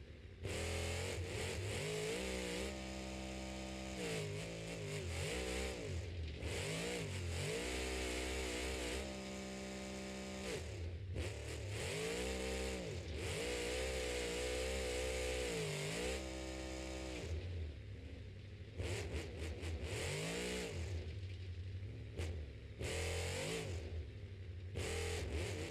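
A monster truck engine roars and revs inside a Monster Jam arena in Nashville, loud and continuous with repeated rising and falling throttle sweeps and brief dips between bursts.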